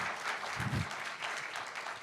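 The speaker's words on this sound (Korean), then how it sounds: "정광필 학장님께 따뜻한 박수 부탁드리겠습니다" An audience at a lecture gives dense, sustained applause, a steady wash of many hands clapping together for a couple of seconds.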